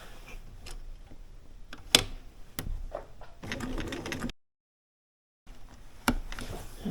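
A sewing machine goes back over a small spot of binding with missed stitches, sounding as short bursts of mechanical stitching with a few sharp clicks, a brief pause, then more stitching close by.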